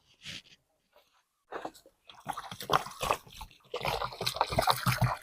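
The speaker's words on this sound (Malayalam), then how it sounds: "ഇനി നമുക്ക് നന്നായിട്ട് നനച്ചു കൊടുക്കാം" Water is poured onto a newly planted rambutan sapling in fresh soil. A short splash comes first, then close, steady splashing and trickling that grows fuller and continues to the end.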